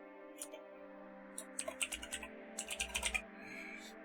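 Clicky computer keyboard keys tapped in short uneven bursts, close and crisp, with sparse early presses giving way to a quicker flurry over a soft electronic music bed.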